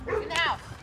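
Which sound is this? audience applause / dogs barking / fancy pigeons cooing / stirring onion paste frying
dogs barking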